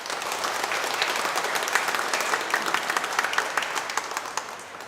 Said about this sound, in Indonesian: Mari kita menyambutnya dengan aplaus